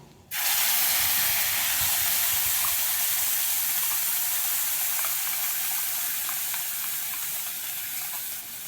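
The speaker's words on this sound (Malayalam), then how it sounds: "ഇത് മൂന്നും കൂടി അരച്ചത് നമുക്കിതിലേക്ക് ഒഴിക്കാം" A ground paste of mustard seeds, coconut and green chili poured into a hot pan for bitter melon pachadi, setting off a sudden loud, steady hiss and sizzle that fades slightly over several seconds.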